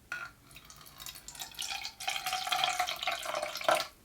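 Water is poured into a container and measured out to make a lye solution for homemade soap, giving a close, steady trickling and splashing that builds and grows louder toward the end.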